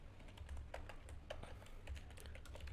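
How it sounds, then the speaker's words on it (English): Soft keystrokes on a computer keyboard, a quiet irregular patter of taps over faint background hum. "so I'm gonna type, hi, can you"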